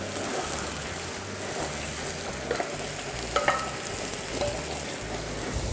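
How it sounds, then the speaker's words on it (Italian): Sausage fries in a pan with a thin film of oil over a high flame, making a loud, continuous sizzle with occasional clicks and scrapes from stirring. "ora cominciamo a cuocere la salsiccia"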